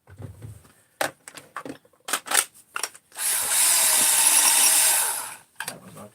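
A DeWalt battery-powered tool gives several short bursts and then runs steadily for about two seconds, a close, loud whir among clicks and handling noises.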